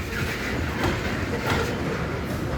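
A train rolls through a crossing on a pedestrian path in a metropark, a loud, steady rumble of railcars with faint rhythmic clickety-clack of wheels on track and no voices.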